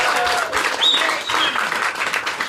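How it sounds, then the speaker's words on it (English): Live audience applause at a storytelling game show in a theater, a dense steady wash of clapping with some cheers and whistles mixed in, loud and sustained throughout. "How about a round of applause for all your"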